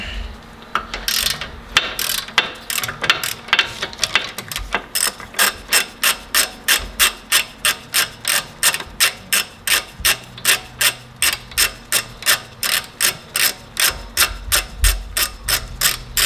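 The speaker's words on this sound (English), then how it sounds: "once you get the caliper bolts off, it's good to have one of these caliper hangers" A ratchet turns caliper bolts on an MK8 Volkswagen GTI during a lowering spring install, giving a rapid, evenly spaced run of sharp metallic clicks, close and loud, with a few irregular clanks at the start.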